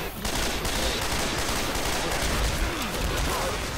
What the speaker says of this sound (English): Please shoot the zombies.